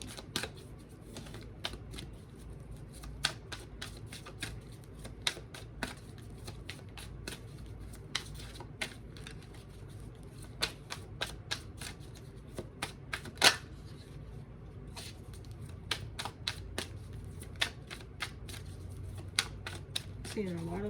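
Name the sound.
tarot cards being shuffled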